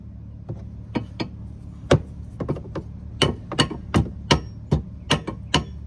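A hammer taps a bolt into place on a Club Car golf cart's upper A-arm in short sharp metal strikes, irregular at first, then quicker steady taps, close and fairly loud over a low hum.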